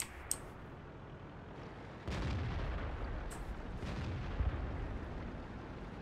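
An artillery gun fires in the tank game World of Tanks, one heavy boom that swells into a long rumbling roar, preceded by a couple of faint clicks.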